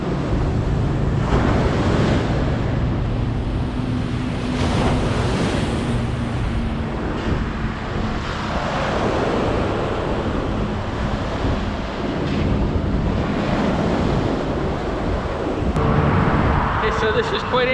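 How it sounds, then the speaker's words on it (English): Surf washing onto Playa Peñón del Cuervo, a beach near a large rock and across from a big factory, a steady broadband wash with wind buffeting the microphone and faint voices around. "So this is quite an interesting beach."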